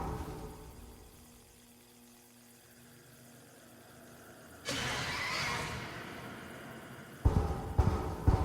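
Horror horse creature in the video game Mouthwashing lets out a loud whinnying neigh that swells midway, followed by sharp knocking thumps near the end, with no talking.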